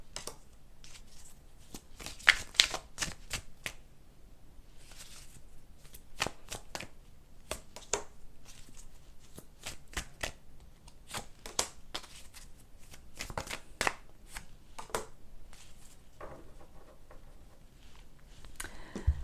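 Tarot cards shuffled by hand in a long run of crisp riffles, slaps and soft flutters, each burst close and sharp with short gaps between, continuing steadily with no talk.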